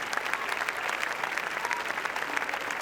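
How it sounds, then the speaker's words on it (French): A standing audience at the Cannes Film Festival applauds a screening, a dense, steady wash of clapping from many hands that holds at an even level with no pauses. "le public est debout pour applaudir Roman Polanski et ses actrices Eva Green et Emmanuel Seignier."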